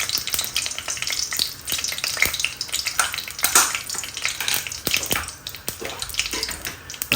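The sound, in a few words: dried Kashmiri chilies and bay leaves sizzling in hot ghee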